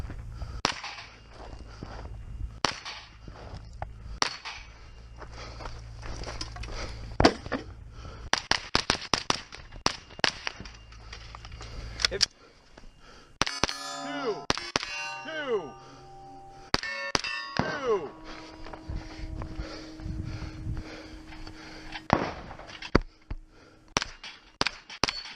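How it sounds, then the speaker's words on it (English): Pistol caliber carbine shots ringing off a steel plate rack at a 3 Gun match, a quick run of sharp cracks followed by bright metallic clangs and pings, some plates ringing on with sustained tones. "There is a plate rack that must be engaged between these two no-shoots from this position."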